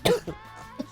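A person gives a couple of quick, close coughs and throat clears in short bursts, loud against a quiet background.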